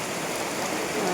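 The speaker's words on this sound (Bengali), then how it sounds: "প্রচুর হারে বৃষ্টি পড়ছে।" Heavy monsoon rain pours down in West Bengal as a dense, steady hiss of drops hitting surfaces, loud and unbroken throughout, with no voices.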